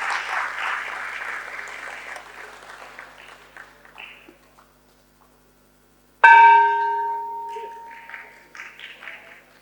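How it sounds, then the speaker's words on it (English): Applause from the audience at an IPO listing ceremony fades out to near silence, then a bright ringing bell-like tone strikes and slowly decays. "Can we give them a huge round of applause for making it to this special ceremony?"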